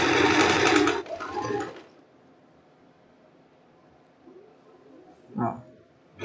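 A sewing machine runs a stitched hem along an existing seam on a one-shoulder strap blouse, a loud buzzing burst for about two seconds that then stops, followed by near-silence and a brief rustle.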